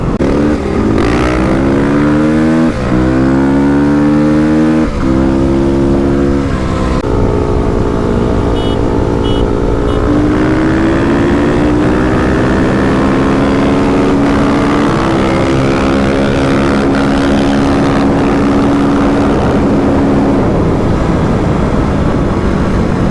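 A Kawasaki KLX dual-sport motorcycle doing a 5th-gear roll-on on the road, its engine loud and close, with the exhaust note climbing steadily in pitch through repeated rising pulls.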